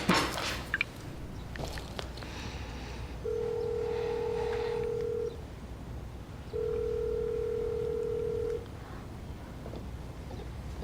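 Telephone keypad dialing beeps followed by two long steady ringback tones separated by a pause, heard alone in a quiet office with faint background noise.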